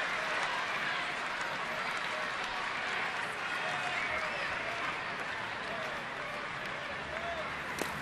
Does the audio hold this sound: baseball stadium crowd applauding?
yes